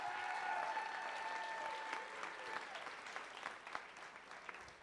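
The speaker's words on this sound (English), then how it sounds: "Another round of applause for Libby." Audience applause at a live 2019 event rises at full strength and then slowly thins out, a dense wash of clapping hands with no voice on top.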